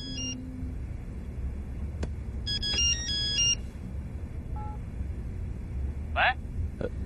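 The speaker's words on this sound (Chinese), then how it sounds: "大姐，你电话响了。" A mobile phone ringtone plays in short electronic melodic bursts, fairly faint against low background rumble, with brief talk in between.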